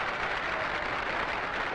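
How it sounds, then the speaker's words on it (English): Crowd applause rising at a 1965 All-Star baseball game after a home run, a steady dense wash of clapping and crowd noise filling the stadium with no distinct voices on top. "Brooks Robinson adds some applause of his own as he scores."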